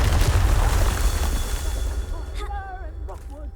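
A Confringo spell blast in Hogwarts Legacy: a loud, booming fiery explosion that rumbles and fades over a few seconds, followed by brief chirpy magical effects.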